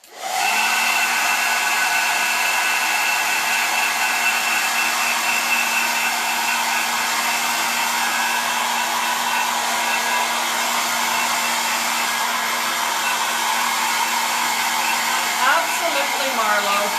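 A hair dryer blows steadily and loudly for the whole stretch, drying a chalk-painted floral pillow, a constant close-up whoosh with no talk over it.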